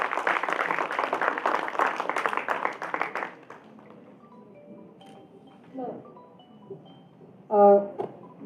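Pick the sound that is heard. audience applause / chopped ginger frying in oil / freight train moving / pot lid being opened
audience applause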